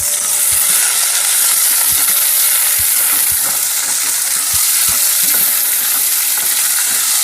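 Onion and ginger fry in a pan with a steady, bright sizzle, broken by scattered soft thumps and scrapes of stirring, close and fairly loud throughout with no talking.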